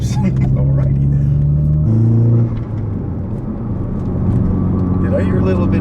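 A 2017 Ford Focus RS engine drones loudly from inside the cabin with shifting tones as revs change, over which people talk; distinct exhaust pops are not clearly picked out.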